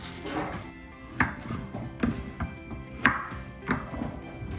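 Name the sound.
chopping carrots diagonally with a knife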